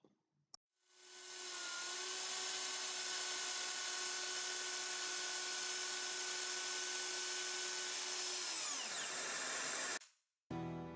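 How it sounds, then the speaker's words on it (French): A wood router fitted with a half-round bit shaping the handles of an end-grain wooden cutting board, a steady loud high-pitched whine that spins up, holds for about eight seconds, then winds down, alone without talk. "Je vais réaliser la défonceuse sur plusieurs pas successifs des poignées que je n'avais pas dessinées sur le dessin SketchUp avec une fraise demi-rond."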